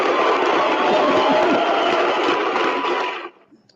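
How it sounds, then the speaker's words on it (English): A live audience claps and cheers in a dense, loud, continuous burst for about three seconds, then the noise drops off abruptly into near silence. "Let me get out a round of applause"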